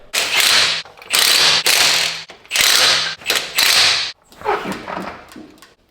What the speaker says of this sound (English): let's go ahead and tighten these up